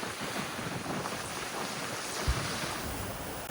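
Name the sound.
strong wind and waves on a sailboat at sea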